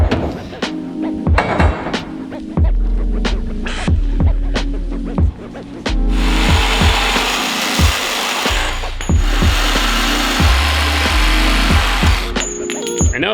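A Sawzall reciprocating saw cuts through steel roll cage tubing on a drift car build, with loud buzzing bursts separated by sharp metallic knocks and clanks, then a longer sustained cut in the middle.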